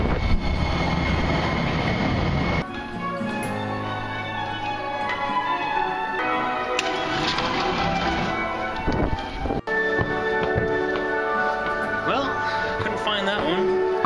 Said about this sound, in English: The LRT train comes by these stations about once every 10 minutes.